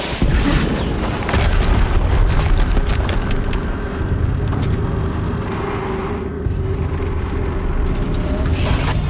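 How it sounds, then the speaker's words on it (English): In Horizon Zero Dawn, a loud, dense explosion booms and keeps rumbling for several seconds, a wash of noise that ebbs slightly and then swells again, with no speech over it. "Another explosion."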